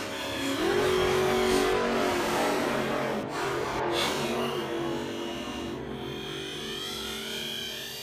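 A toy buggy from a Bruder toy play set is driven steadily, giving a continuous close motor-like whir with a brief pitch sweep early on and no talk.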